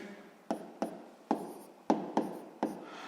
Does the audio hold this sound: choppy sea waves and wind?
no